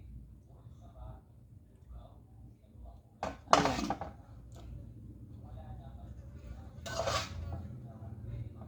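Pancit bihon with chicken being stirred in a pan, soft scraping of a utensil against metal with a couple of louder clanks, steady cooking hiss beneath, and a voice talking throughout.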